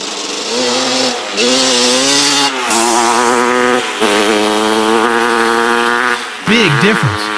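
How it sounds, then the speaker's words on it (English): A 1982 Suzuki RM250 two-stroke motorcycle engine, running with its ignition timing set too retarded, revs up and down loudly and close by in a buzzing, rising and falling drone, with brief drops in throttle. "I can tell by the way it's running that the timing is a little too retarded on this bike"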